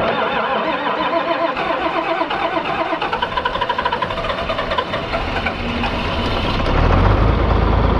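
A John Deere 4010 tractor engine cranks with rapid knocking on a chilly morning, catches and settles into a rough, rumbling idle that swells deeper and louder toward the end.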